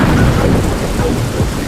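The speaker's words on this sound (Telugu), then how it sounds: "అమ్మో ఏంటి ఇంత ఉరుములు వస్తున్నాయి, ఉరుములు మెరుపులు" Loud, continuous heavy rain pouring down with a deep rumble of thunder rolling through it, close and dense throughout, no talking.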